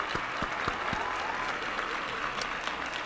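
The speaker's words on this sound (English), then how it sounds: "An applause for Laura." Applause from a live online craft stamping show host's audience for Laura, a burst of sustained clapping with a few sharp, distinct claps at the start, steady and fairly close throughout.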